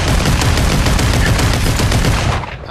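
Video game shooter gunfire with an M60 machine gun: dense, continuous loud bursts of rapid shots filling the whole stretch, tapering off at the very end.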